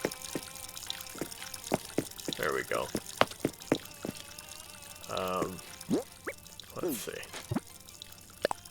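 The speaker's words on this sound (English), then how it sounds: "And turn the water on too so that I'm wasting water and electricity." Water runs from a tap in Animal Crossing: New Horizons, a steady soft pouring under clicks and short game sound effects, while a person talks briefly over it.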